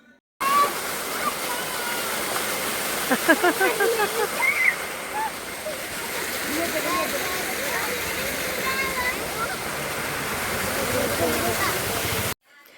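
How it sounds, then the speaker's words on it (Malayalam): Continuous rush of a stream flowing beside a road, steady and moderately loud, with a few brief bird-like chirps early on. "ഈ വെള്ളം ഒഴുകി പോകുന്നതിൻ്റെ ആ ഒരു ശബ്ദം തന്നെ ഭയങ്കര മനോഹരമാണ്"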